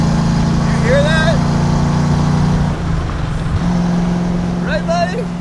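A 1973 Ford Mustang restomod on the road, its engine holding a steady, loud drone that briefly dips and then resumes, while a voice talks over it.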